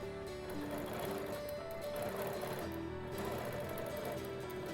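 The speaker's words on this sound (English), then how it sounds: "I like to stop at each corner and pause to get a crisp, clean stitch." Sewing machine stitching a quilt along a hexagon quilting template, a continuous close mechanical whir with a steady motor hum that runs without a break, no voices.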